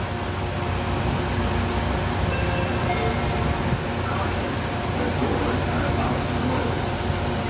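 A diesel double-decker commuter train bound for Chicago Union Station rumbles past at a station, a continuous loud low engine drone and rolling noise with faint hiss, steady for the whole span.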